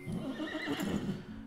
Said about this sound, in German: Und die wiehernden Dachse.